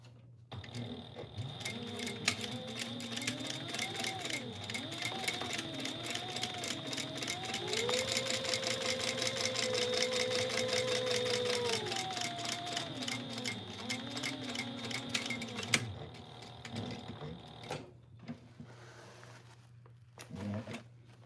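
A home sewing machine stitches a second row along the exterior of a holiday sewing project. A steady, rapid mechanical whir with a ticking pulse runs for about fifteen seconds, rising and easing in speed, then stops, followed by quiet handling.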